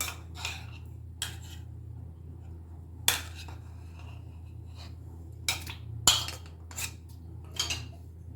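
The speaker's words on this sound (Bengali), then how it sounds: "একটা মিক্সিং বোলের মধ্যে আমি এই চিংড়ি মাছটা দিয়ে দিচ্ছি" Raw prawns tossed with salt and turmeric being dropped into a mixing bowl, a sparse series of soft wet plops and light clinks against the bowl in a quiet kitchen.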